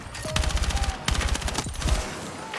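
Automatic gunfire in the Battlefield 6 video game: three rapid bursts of loud, close shots, each a quick rattling string of reports separated by short pauses.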